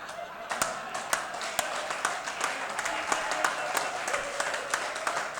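Audience applause at a Hindi comic poetry recital (kavi sammelan), a steady wash of many hands clapping with sharp individual claps standing out, continuous for several seconds at moderate loudness.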